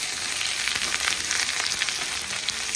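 Beef pieces fry in a hot pan, giving a loud, dense, crackling sizzle that continues without pause and with no talking.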